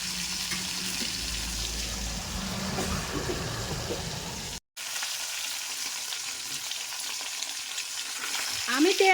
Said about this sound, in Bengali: আমার মাছটা এক পিঠ একটু হয়ে এসেছে, আমি এখন এটা উল্টিয়ে দেব। এটা যেহেতু ইলিশ মাছ তাই খুব একটা বেশি ভাজার দরকার নেই।